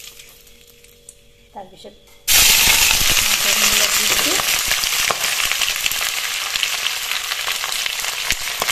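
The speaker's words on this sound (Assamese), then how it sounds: "এইফালে কেৰাহীত মই তেল গৰম হ'বলৈ দি দিছোঁ। ইয়াত তেজপাত পেলাই দি দিছোঁ।" Bay leaf dropped into hot oil in a kadai, a loud sudden sizzle that flares up and keeps crackling steadily, following a brief quieter stretch with a spoken word.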